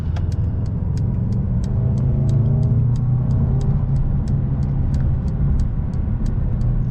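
Steady road noise from a 2021 Mercedes-Benz A 220 4Matic sedan cruising on a freeway, a continuous low engine hum and tire roar with faint regular ticking above it.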